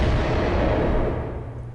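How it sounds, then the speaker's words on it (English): Massive explosion rocking a building, a loud sustained low roar and rumble that slowly fades, with no voices. "a massive explosion rocked the building"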